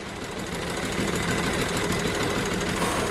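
A steam traction engine labours up a steep hill in Sheffield, a steady loud broadband chugging and rumble that holds continuously throughout without pauses.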